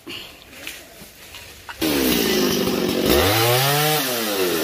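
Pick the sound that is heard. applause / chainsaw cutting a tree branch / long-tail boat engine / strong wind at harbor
chainsaw cutting a tree branch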